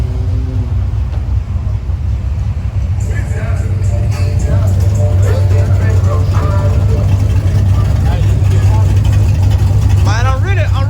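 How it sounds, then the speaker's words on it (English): A car with a rear end just repaired and a failing transmission drives steadily, its engine hum and road rumble constant throughout while people talk over it. "Out here testing the car."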